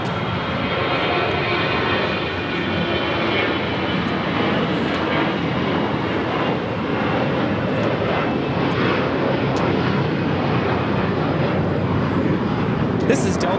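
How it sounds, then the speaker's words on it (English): Loud, continuous jet roar from a Delta Airlines Airbus A321 taking off, a dense broadband rush that stays steady for the whole stretch, with a voice faintly present beneath it. "2063 taking off to New Orleans on an A321"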